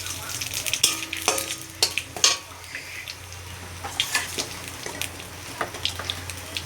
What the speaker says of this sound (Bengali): এবার আমি তেল দেবো ফোড়নের জন্য। দেব তেজপাতা আর দেব কালো জিরে,